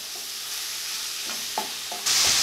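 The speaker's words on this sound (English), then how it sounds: "So let's get the shrimp good and cooked." Shrimp sizzling in a hot pan while being stirred, a steady frying hiss broken by a few scraping stirs and a louder burst of sizzle near the end; no one speaks.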